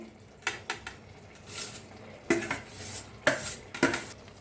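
Eggs being mixed into fried onion in a pan, a series of distinct metallic scrapes and clinks of a utensil against the pan, spaced irregularly over a faint background sizzle, close and otherwise quiet.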